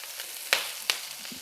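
A medium onion sizzles as it sautés in a pan, giving a soft, steady frying hiss. Two sharp clacks, like a utensil against the pan, stand out near the middle.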